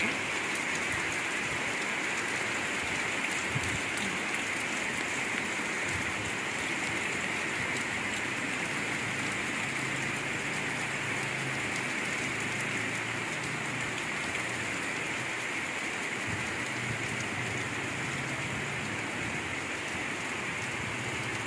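Rain pouring steadily in a village garden, a constant dense hiss of drops on leaves and surfaces with no pauses, heard alone.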